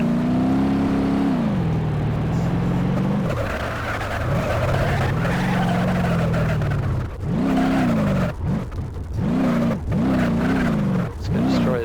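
A vehicle in BeamNG.drive with a broken or missing drive shaft revs hard on a low-traction surface, its engine whining and rising in pitch, then dipping repeatedly as the throttle cuts in and out; loud and steady throughout.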